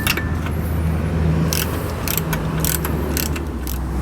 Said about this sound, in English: I'm using my 15 millimeter socket wrench. So I'm going to start unscrewing this one.